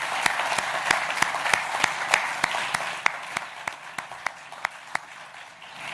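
Audience applause at a battery separator factory inauguration, loud sustained clapping from a crowd punctuated by regular sharp individual claps that gradually thin out.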